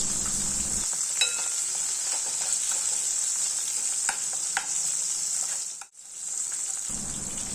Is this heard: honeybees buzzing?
no